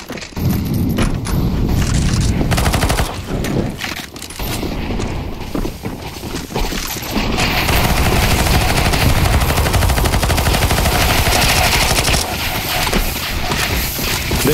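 Rapid, loud automatic gunfire and booming shots from Counter-Strike 2 zombie escape mode fill the whole stretch in dense, continuous bursts, with brief lulls and mechanical clatter between volleys.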